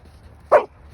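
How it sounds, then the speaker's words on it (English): A Samoyed dog barks at an elk outdoors, a single short, sharp bark, fairly close and loud against a quiet background. "See how it barks."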